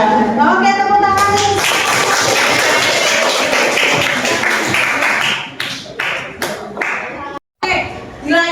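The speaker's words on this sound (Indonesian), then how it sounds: "Oke, tepuk tangan." A classroom of students claps together on a teacher's cue at a school counselling session, a dense burst of applause lasting several seconds before thinning into scattered claps, with talk and voices around it.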